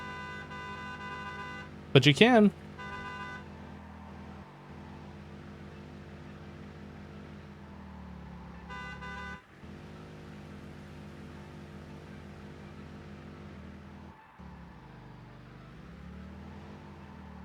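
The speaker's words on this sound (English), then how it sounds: "I forgot that you can press like the buttons and make the thing honk." Vehicle horn honking in Minecraft, a short burst of bright toots around two seconds in, heard over a steady game soundtrack while a voice talks.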